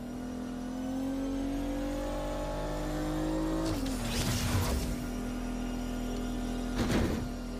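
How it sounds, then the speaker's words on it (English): A car in the video game Agents of Mayhem revs and accelerates with a steady rising engine drone, interrupted by a couple of loud bursts of crashing noise. "All of a sudden, my car randomly picks up a lot of speed."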